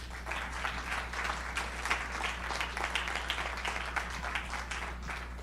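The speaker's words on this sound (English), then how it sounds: "Let's give him another round of applause" Steady applause from a forum audience after a presentation, a dense wash of many hands clapping continuously at moderate loudness with no talk over it.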